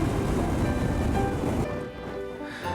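Steady broadband wind buffets the exposed Cornish coastline near Harlyn Bay in winter, a loud continuous rush that eases slightly toward the end, with no voices.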